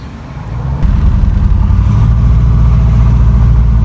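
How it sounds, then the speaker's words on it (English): A car on a test drive after a speedometer correction adapter install, its engine rumbling steadily and loud from inside the cabin, swelling briefly as it pulls away and then holding a constant drone, with no talking. "we are going to just go out for a drive and test it out right now"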